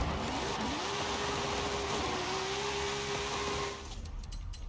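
Drag car launching for a wheelie in Forza Horizon 5, its engine loudly revving up and holding a high, steady whine before cutting off near the end.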